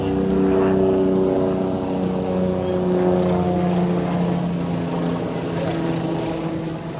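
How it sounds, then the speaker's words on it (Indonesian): A helicopter passes overhead at an outdoor site where rubbish was dumped, a steady low rotor and engine drone with humming tones that stays strong for several seconds. "Kita tahan dulu karena ada helikopter lewat."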